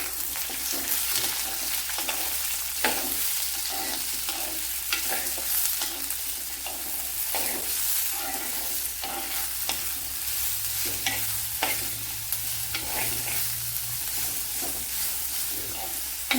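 Chopped onion frying in oil in a pan for a Kerala bitter gourd dish, a continuous sizzle broken by repeated scraping strokes of a stirring spoon, close and steady throughout.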